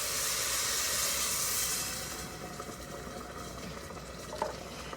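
Chicken broth, made from water and chicken base, poured into a pot of rice that is starting to burn. A loud steaming hiss for the first two seconds eases into a softer sizzle and bubbling.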